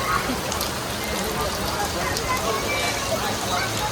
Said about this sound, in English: it's still raining quite a bit